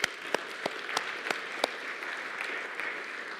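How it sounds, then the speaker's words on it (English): Applause from an audience, a steady wash of clapping with a few sharp, close claps standing out, fairly soft overall. "Give them a round of applause."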